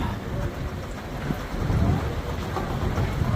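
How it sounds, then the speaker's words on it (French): Steady rain pattering on a nearby surface aboard a boat on the Amazon, a dense continuous hiss with low rumbling underneath and no talking. "Oula, il pleut à l'intérieur."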